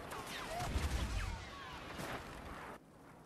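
Airstrike explosions in Star Wars Battlefront on the Hoth Walker Assault map, a rumbling series of blasts and gunfire bursts at low level.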